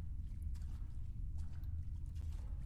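Steady sloshing of water through a flooded basement in the horror game Deppart Prototype, a continuous low rumbling wash with faint splashes, even in loudness throughout.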